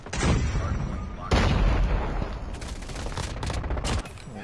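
Rapid automatic fire from a new submachine gun in a ranked online shooter match, loud close bursts that stop and restart, with other distant shots and brief speech.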